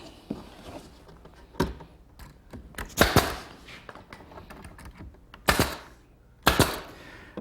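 Quarter-inch plywood being nailed onto the back of a drawer chest carcass, sharp hammer blows landing singly and in quick pairs at irregular intervals over quiet shop ambience.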